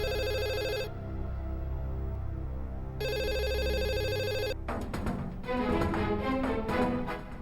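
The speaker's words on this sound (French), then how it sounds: "Le téléphone sonne, vas-y et réponds, maman." A telephone rings in repeated electronic trilling bursts with a pause between them, over a low music bed. A sharp musical sting takes over near the end.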